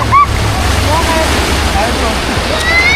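Sea waves wash onto the beach at Splash Island in a continuous broad rush under wind buffeting the microphone, with a few faint high voices calling in the distance.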